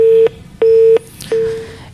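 A telephone busy tone sounds loud and close on a dropped call to a radio talk show, three evenly spaced steady beeps with short gaps between them.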